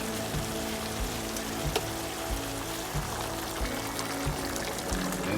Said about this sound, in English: refill with a little bit of hot water.